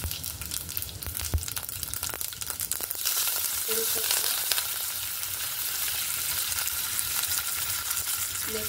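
Cumin and mustard seeds sizzle and crackle in hot oil for an onion-capsicum dish, with sharp pops at first settling into a steady frying hiss close by.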